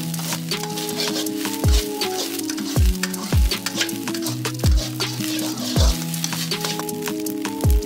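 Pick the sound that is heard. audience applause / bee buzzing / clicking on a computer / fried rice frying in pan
fried rice frying in pan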